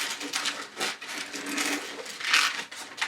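Latex balloon squeaking and rubbing in close, repeated bursts as it is pinch twisted into small bubbles for a Lumiere balloon figure, no talking.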